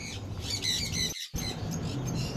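Conure parrots, Java and yellow-sided types, squawk in harsh repeated bursts close by, with a busy mix of several birds calling over one another and a brief gap midway.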